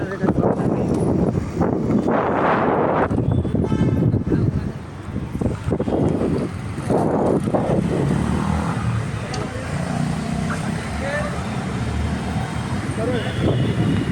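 Car driving on a road, with a continuous engine and road rumble and wind noise. People talk over it through much of the clip.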